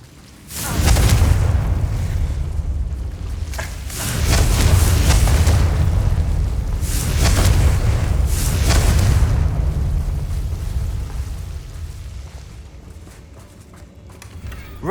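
Confringo spell explosions from the video game Hogwarts Legacy burst as big booming blasts. Three or four loud, rumbling detonations arrive a few seconds apart, each swelling and then trailing off into a lower roar.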